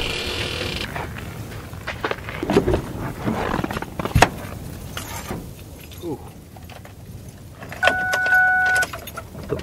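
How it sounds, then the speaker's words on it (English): A truck engine cranks and turns over at minus 40 degrees, loud and close, with scattered clunks and rattles, then a steady whine of the engine settling near the end. "See if we can get the truck started."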